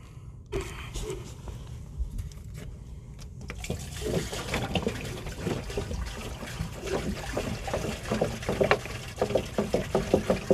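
Several gallons of water poured down a residential sewer line during a camera inspection, draining with a gurgling, trickling rush that builds after a quiet start, close and moderately loud, with no speech.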